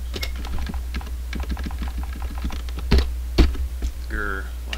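Rapid clicking of computer keyboard keys in an irregular stream of close taps with a few louder strokes, and a brief voice near the end.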